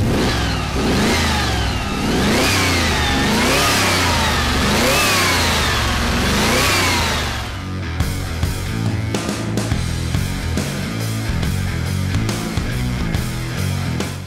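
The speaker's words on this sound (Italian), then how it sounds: "è però ora giunto il momento di entrare nell'abitacolo di questa vettura sportiva e di farvi sentire il rombo del motore" The engine of a 1988 Marcos Mantula 3500 GT sports car revs repeatedly in rising and falling surges, loud and close, then settles into a rougher rumbling idle with clicks and knocks.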